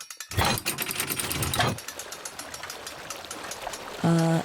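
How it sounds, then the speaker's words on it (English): Water gushes and trickles into the cramped hull of the Turtle, a hand-cranked wooden submarine, a loud rushing burst settling into a steady splashing flow, followed by a brief low tone. "there's a bunch of water coming in."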